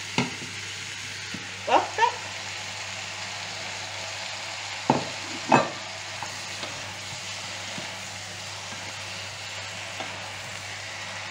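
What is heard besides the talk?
venison meat frying in a pan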